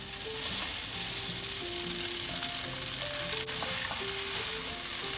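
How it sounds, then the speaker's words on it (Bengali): Pasta sizzles and fries in butter in a pan on the stove, a steady, close hiss running without pause and without talk. "আমি এখন পাস্তা অ্যাড করে দিচ্ছি বাটারের সাথে।"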